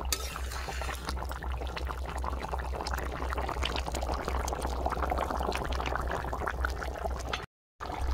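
Bottle gourd and shrimp curry is poured out, a continuous wet, sloshing pour with faint clinks against the vessel, close and steady, ending in a sudden brief silence.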